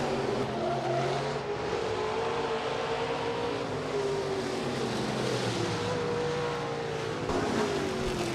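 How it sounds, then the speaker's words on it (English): Several Precision Auto Body USRA Stock Cars race together in a heat at Rapid Speedway, their engines making a loud, continuous roar whose pitch rises and falls around the track, with no talk over it. "Heat race number 1 of 3 for the Precision Auto Body USRA Stock Cars."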